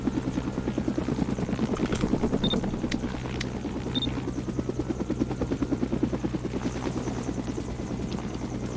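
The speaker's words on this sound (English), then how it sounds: "Alright, we're just gonna position our helicopter here." A helicopter in a Roblox fire department game thumps with a steady rapid rotor chop, loud and continuous throughout, with a few faint clicks on top.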